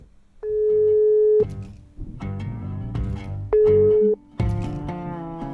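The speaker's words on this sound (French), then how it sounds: "on s'est donné rendez-vous au téléphone et donc on va l'appeler tout de suite" Steady telephone line tones sound while a call is placed, two long even beeps separated by a gap, with brief bursts of line noise and fragments of voice between them.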